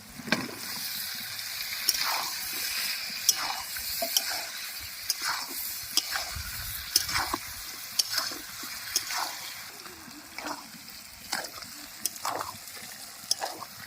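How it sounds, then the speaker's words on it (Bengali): Eggplant frying in fish oil in a pan, a steady soft sizzle with repeated stirring scrapes and clacks at an even rhythm, close and fairly quiet. "এবার বেগুন দিয়ে দেব"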